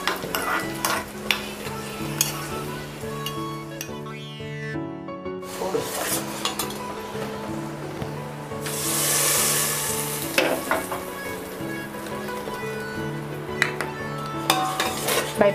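Raisins fry in a pan for ada pradaman payasam, a close sizzle broken by repeated metallic scrapes and clinks of a spoon against the pan, with a brief quieter gap early on.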